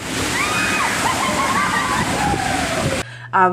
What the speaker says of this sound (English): You have the bucket that kind of just drops down all that water.